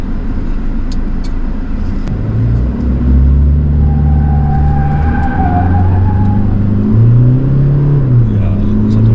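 Toyota Hilux diesel pickup accelerating in sport mode, the engine note rising and shifting through gears as heard from the cabin, with someone talking over it.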